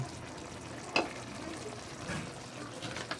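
Vinegar goes into a hot frying pan of adobo chicken liver and gizzards with vegetables, giving a soft steady sizzle with a brief splashy hiss, quiet and close.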